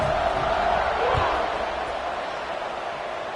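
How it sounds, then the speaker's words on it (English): A football stadium crowd keeps up a loud, steady roar after a score in a UCLA versus Boise State game, broad and diffuse, slowly easing in level. "this crowd is buzzing after that last score"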